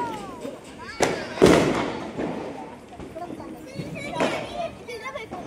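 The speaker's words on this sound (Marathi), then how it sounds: "इथे सगळे फटाके वाजवतात." Firecrackers burst outdoors during Lakshmi Puja celebrations, with a few sharp bangs and crackles among people's voices and general chatter.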